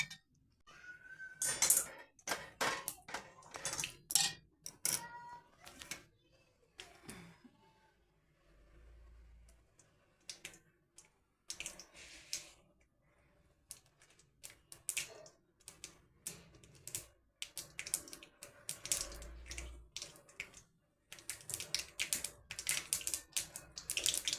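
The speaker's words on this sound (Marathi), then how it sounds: "असं मोहरेल तडका चरचडू द्यायची चांगली त्या जिरे टाकायचे" Mustard seeds and cumin crackle and pop in hot oil during tempering, a scattered series of sharp, close sizzling bursts with quieter gaps and faint kitchen clatter.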